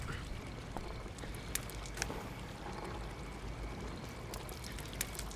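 Water poured over a person for an ice bucket challenge, a steady rushing splash that lasts several seconds with a few sharp clinks and slaps breaking through.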